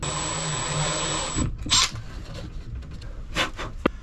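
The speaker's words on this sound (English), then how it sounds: "let's pull this out and drill for a magnet" A power drill whines steadily for about a second and a half while drilling a magnet hole in wood on a wooden boat, then stops, followed by light handling noises and clicks.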